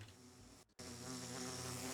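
A dense swarm of bees drones behind a wall in the Minecraft modpack All The Mods 10, a continuous low buzzing that briefly cuts out for a split second, then resumes steady and faint.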